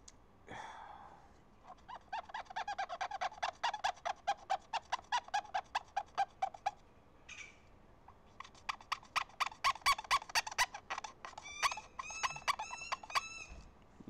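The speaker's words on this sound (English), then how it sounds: "the birds are responding to the squeakiness of this." Fowl-like birds calling in a room while a Quasar color video camera is being cleaned, a long run of rapid clucking, squawking notes rising and falling in bursts, fairly loud, with no talk.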